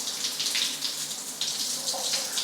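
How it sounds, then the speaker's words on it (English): Water runs steadily from a household tap, flushing out cold water that sat in the pipes under the slab, a continuous loud splashing stream with no talking. "Got to get all this cold water out of the lines"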